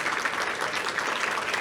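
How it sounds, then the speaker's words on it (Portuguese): Brief burst of dense, continuous audience applause at a fintech pitch competition, crowd clapping steadily throughout. "salva de palmas para a Gira Mais"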